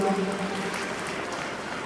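An audience at a horse show applauds a young filly shown in the ring, a brief, steady wash of clapping that stays even throughout.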